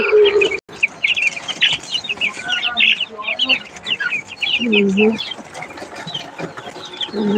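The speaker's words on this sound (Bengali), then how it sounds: "আমার লেয়ার সাদা লেয়ার মুরগিগুলো এই যে আমাকে দেখছে কি করতেছে" White layer hens on a farm cluck and chatter in rapid, overlapping calls, close by and fairly loud, with a person's voice briefly mixed in.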